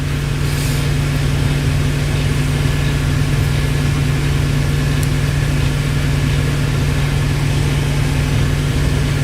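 A truck engine idles steadily in the cab, a loud, constant low rumble with a strong droning hum that holds unchanged throughout, no one speaking.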